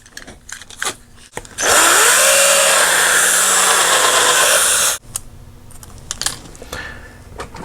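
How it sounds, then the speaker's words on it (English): A power drill whirs loudly for about three seconds, drilling out a rivet on a Hot Wheels toy van, between quieter clicks and handling noises before and after. "let me go ahead and drill this sucker out"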